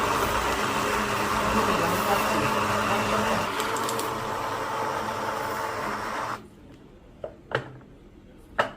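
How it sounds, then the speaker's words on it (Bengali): An electric kitchen blender runs at medium speed, grinding onion and garlic into a bharta mash; a steady, loud whirring roar continues for about six seconds, then cuts off abruptly, leaving a few light knocks. "ব্লেন্ডারটা আমি দুই মিনিটের মতো চালিয়ে নিব মিডিয়াম স্পিডে"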